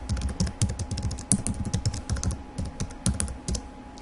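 Fast, continuous typing on a computer keyboard while adding a new keyword, dense clattering keystrokes in quick bursts, loud and close with no voices.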